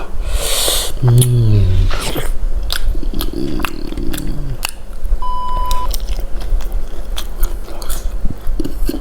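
Close-up, loud biting and wet chewing of som tam papaya salad, with crunchy bites and smacking mouth sounds repeating irregularly, along with a short vocal hum near the start and a brief electronic beep partway through.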